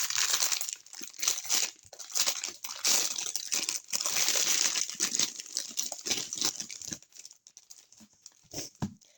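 Temu packages are unwrapped close up, with plastic and paper crinkling, crumpling and tearing in busy, uneven bursts that continue throughout.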